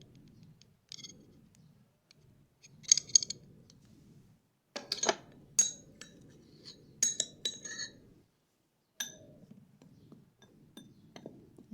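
Metal spoon clinks against a bowl while gram flour and yogurt are stirred together, with a few separate bursts of sharp clinks and scraping between quiet pauses.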